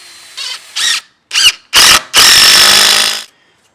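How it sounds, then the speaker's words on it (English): A power drill pre-drilling holes for mounting screws on a security installation, five close loud bursts of whirring, short at first and then one longer run, with silence between them. "We'll pre-drill the holes for everything,"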